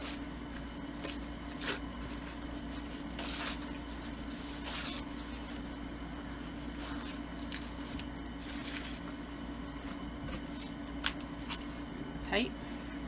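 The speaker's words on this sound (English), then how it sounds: "I'm going to pull off all my tearaway stabilizer" Tearaway embroidery stabilizer being torn and peeled from a machine-embroidered piece in a series of short, papery rips and crinkles, close by, with soft handling noise between pulls.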